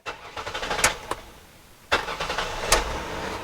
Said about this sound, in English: But let's start her up. Let's see how she do.